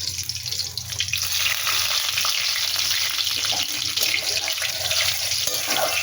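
Dried red chillies and black cumin seeds frying in hot oil in a home kitchen, a steady close hiss and crackle of sizzling that runs without a break, with faint watery spattering mixed in.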